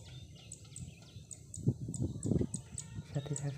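Small birds chirp in short, regular high tweets over a rice paddy of the Ciherang variety, with faint low rustling and murmuring voices underneath.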